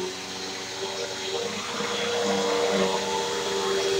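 A Bissell vacuum cleaner runs on cheese crackers with a steady, loud motor drone and suction hiss that holds constant and grows slightly heavier toward the end, close by and alone.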